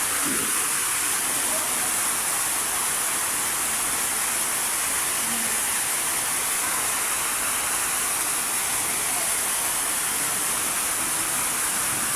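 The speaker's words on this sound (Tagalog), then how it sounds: "bigla na lang bumagsak yung pagkalakas-lakas na ulan" A steady, dense hiss of heavy rain pours without a break, loud and unchanging, with a few faint low sounds beneath it.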